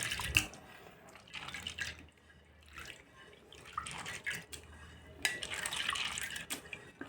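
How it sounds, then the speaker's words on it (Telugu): Food being washed by hand in a bowl of water, with close splashing, sloshing and dripping in uneven bursts, moderately loud and without talk. "ఇప్పుడైతే నేను రెండోసారి వాష్ చేసుకుంటున్నాను"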